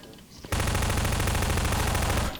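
Sustained automatic gunfire in Half-Life 2 erupts after a brief lull, a dense, loud, continuous rattle of rapid shots lasting about two seconds.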